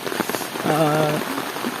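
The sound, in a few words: heavy rain falling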